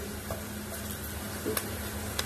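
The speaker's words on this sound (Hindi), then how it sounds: "पियाज गोल्डन ब्राउन पर्यंत आम भाजा" Onions frying in a pan until golden brown: a soft, steady sizzle with a few light stirring scrapes and utensil ticks, close and alone.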